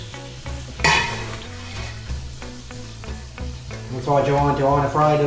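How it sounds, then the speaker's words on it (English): Chicken fries in a pan, cooked for jambalaya. It sizzles steadily and up close, with stirring scrapes and light utensil clinks, and the sizzle grows louder toward the end. "You want to fry it a little bit so the taste stays inside after."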